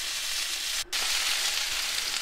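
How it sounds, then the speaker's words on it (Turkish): Beef tenderloin steak sizzling in a frying pan, a steady broadband hiss of frying fat with one brief dip partway through, fairly close and continuous. "bu şekilde kızarttıktan sonra tuz ve karabiber ile etlerimi en son olarak lezzetlendirdim"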